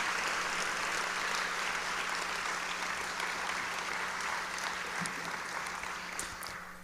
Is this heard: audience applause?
yes